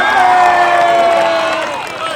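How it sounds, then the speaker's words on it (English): Crowd at a school cricket tournament award ceremony cheering and applauding a player, a loud sustained wash of voices and whoops with clapping underneath. "So big round of applause for him"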